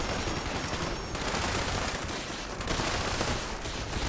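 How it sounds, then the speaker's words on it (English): Rapid weapon fire from a plasma caster in the video game Fallout 76, a dense continuous barrage of crackling shots running the whole stretch, loud and close with no talk over it. "you don't like the plasma caster sound if someone else is using it?"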